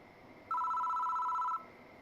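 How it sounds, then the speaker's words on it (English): A telephone in a horror video game rings once with a bright electronic trill, loud and close, lasting about a second against a low ambient hum. "The phone rings."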